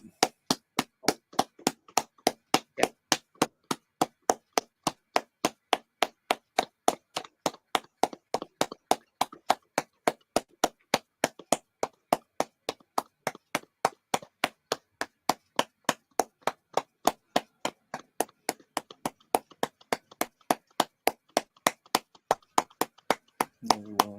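A football crowd at a Fulham versus Leeds United FA Cup match holds a minute's applause for John Watson, heard as steady, sustained clapping that continues throughout, rhythmic and dense.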